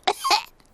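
In a Peppa Pig cartoon, Pedro Pony coughs a short double cough, two quick voiced bursts close to the mic, then silence.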